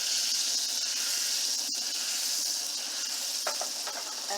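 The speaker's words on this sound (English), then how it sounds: "I'm going to throw in our butter, about a tablespoon or a little over a tablespoon of butter." About a tablespoon of butter melting in a hot pan, a steady close hissing sizzle throughout with a couple of faint clicks.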